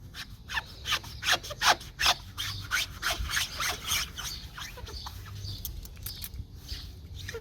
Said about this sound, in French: là, je le fais avec l'éponge.